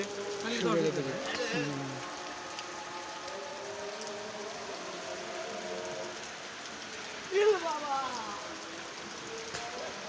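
Heavy rain from Cyclone Remal hisses steadily throughout in Narayanganj, with voices talking briefly at the start and again near the end.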